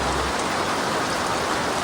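Heavy rain pouring down on a grape farm, a dense, constant hiss of drops hitting leaves and surfaces, loud and unbroken.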